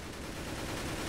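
Automatic fire from an AK rifle in the Roblox video game, a dense, steady stream of shots with no break, fairly quiet and heard alone.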